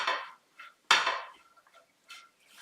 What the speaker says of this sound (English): Okay, and then we're going to give it a big stir.